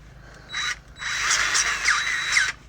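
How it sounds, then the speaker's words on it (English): A grease gun pumping fresh grease into a trailer axle hub, heard as close mechanical clicking and squeaking strokes in short irregular bursts, fairly loud against a quiet background. "I'm going to pump some fresh grease in here"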